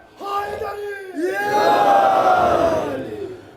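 A mosque congregation in Gilgit roars back a loud, sustained chant in answer to the Naara-e-Haidari call, the massed voices swelling after a brief opening shout and holding for several seconds before fading.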